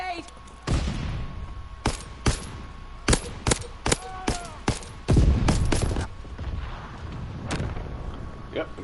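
Rapid gunfire and a stun grenade blast in a PS4 shooter game, sharp repeated shots spread through the clip with a heavier explosive burst near the middle, faint voices underneath.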